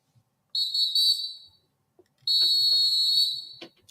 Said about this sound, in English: Oh, that whistle is so sassy.